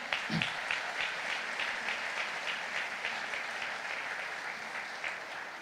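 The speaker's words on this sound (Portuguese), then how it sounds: "Vamos aplaudir ao Senhor." A church convention audience claps steadily, a dense, even wash of many hands sustained at a constant level throughout.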